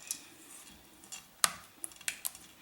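A utensil clinks against a bowl while eggs are beaten into a low-carb crustless pumpkin pie mixture, giving a few sharp irregular taps over quiet scraping, close and fairly soft.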